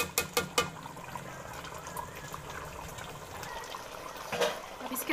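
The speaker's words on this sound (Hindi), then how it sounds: "अब इसके अंदर हम पानी डालेंगे," Water pours into a pot of Lahori-style chicken nihari to start the broth, a few sharp splashes at first, then a steady close gushing trickle, with no talking.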